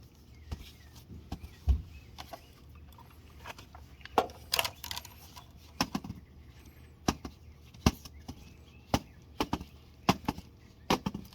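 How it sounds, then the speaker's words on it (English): Gritty rattling of sand shaken inside a Can-Am X3 air filter after dune riding at Glamis, in irregular bursts, sharp clicks and shakes close by, with quiet pauses between the jolts. "There's so much sand in here. I can hear it when I shake it."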